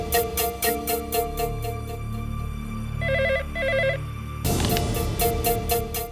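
A telephone rings in a home scene from a Tamil drama, with repeated electronic trill bursts, loud and close over background music that swells near the end, with no talking.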